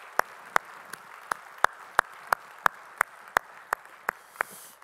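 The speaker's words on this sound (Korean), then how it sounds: "우리의 찬양을 받으실 주님께 영광의 박수 올리겠습니다" A church congregation claps in steady unison, about a dozen crisp, evenly spaced beats in quick rhythm over a quiet hall, with no talking.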